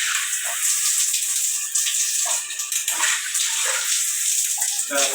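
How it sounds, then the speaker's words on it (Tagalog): A house shower fed by a 42-gallon pressure tank with a 1 hp pump sprays water hard and steadily, a close, continuous hiss with small splashing changes as the stream strikes. "Tingnan natin yung shower."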